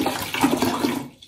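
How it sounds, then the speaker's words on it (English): Water poured into a container at a table for a string water bridge experiment, a close, loud splashing gush lasting about a second before tapering off. "So first I'm going to put the water in."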